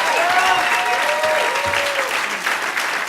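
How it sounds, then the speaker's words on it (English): Audience at an outdoor groundbreaking ceremony for a university basketball practice facility applauds former players with steady, continuous clapping and faint voices in the crowd. "Can we give them a round of applause?"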